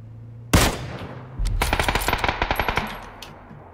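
Gunfire in the battle royale game PUBG: a single sharp shot, then a quick rapid burst of about a dozen evenly spaced automatic rounds, loud and close, with no talking over it.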